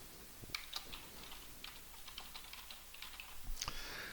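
Quiet clicking of typing on a computer keyboard, a run of irregular soft keystrokes with a few sharper taps, heard close and alone in a quiet room.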